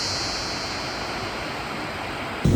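Tumalog Falls in Cebu roars in a steady, dense rush of high falling water into an emerald pool, with a brief knock right at the end.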